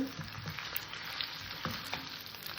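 Spices and chicken frying in a pan over a low gas flame, a steady soft sizzle with occasional light stirring clicks, fairly quiet and close.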